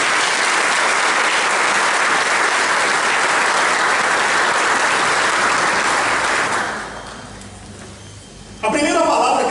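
A church congregation applauds loudly and steadily after a Bible reading, the clapping filling most of the span before fading out, with a voice starting to speak at the very end.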